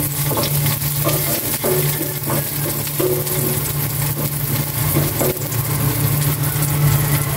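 Garlic sautéing in cooking oil in a pan makes a steady, close sizzle and fry that runs throughout, joined by occasional scraping and stirring clicks and a constant low hum.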